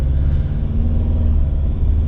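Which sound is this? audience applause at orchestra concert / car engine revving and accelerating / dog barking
car engine revving and accelerating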